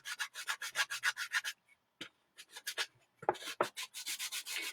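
Sandpaper rubbed back and forth over a surface as prep for painting, a fast run of close, rhythmic scratchy strokes, a short pause with a few taps, then another burst of steady sanding strokes.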